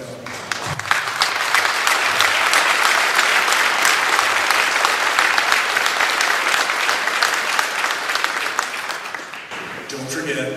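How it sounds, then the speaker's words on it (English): A crowd at a Veterans Day celebration in Dawsonville, Georgia applauds veterans' families, with dense, steady clapping that keeps up for about nine seconds before it thins out near the end. "A round of applause for them."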